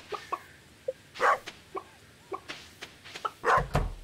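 Chickens clucking in the farming game Stardew Valley, several short separate clucks and squawks spread across the moment, fairly close and alone without talk.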